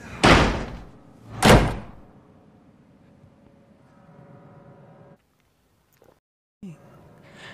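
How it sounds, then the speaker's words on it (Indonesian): Room doors in a horror film slam shut together, two loud heavy bangs in quick succession followed by a low rumbling tail and brief near-silence, then a faint thump. "Daniel kebingungan melihat semua pintu kamar tiba-tiba menutup secara bersamaan."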